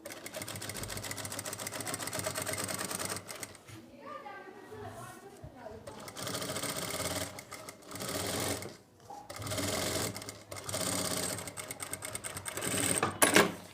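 A sewing machine runs in steady bursts, stitching a belt onto a ready-to-wear saree, with a short pause mid-way before the motor resumes and rattles on to a louder finish.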